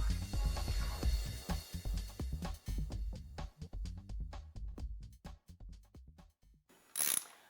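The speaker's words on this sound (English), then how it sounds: "Now we're tightening the primary bolts." A hand ratchet tightens the outer primary cover bolts on a motorcycle, a steady run of close, crisp clicking strokes that slows into separate clicks, ending with a brief bright metallic clink.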